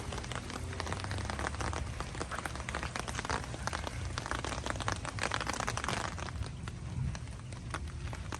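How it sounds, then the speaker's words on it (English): Steady rain falls outdoors as a dense, constant patter of drops on surfaces, unbroken and fairly close throughout. "Now it stopped raining."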